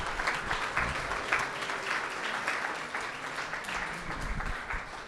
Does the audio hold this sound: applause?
yes